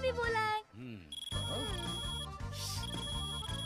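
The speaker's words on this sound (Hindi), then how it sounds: "ट्रिंग ट्रिंग कान फट रहा है, क्या बकवास रिंगटोन है?" A shrill electronic phone ringtone repeats in a steady pattern, loud and close, broken briefly by a deep swooping tone before the ringing returns with music-like layers underneath.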